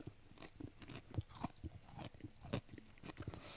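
Salty crunchy snack being chewed close up, a run of sharp irregular crunches and bites with quieter mouth sounds between them, no speech.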